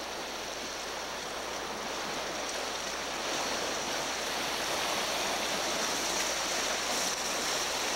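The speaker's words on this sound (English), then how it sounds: "The rip out there is sort of all backed up. You can see those waves are 4, 5, 6 feet high." Tidal rip waves four to six feet high breaking at a kayaking inlet near Pond Inlet, a steady, dense roar of surf that swells slightly louder midway and carries on without pause.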